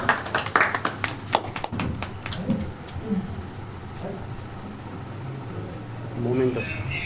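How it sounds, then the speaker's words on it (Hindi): Audience clapping to welcome a guest being honoured at a ceremony, a burst of loud sharp claps at the start that quickly thins out and fades into quiet room noise with faint voices later. "ज़ोरदार तालियों से इनका इस्तकबाल।"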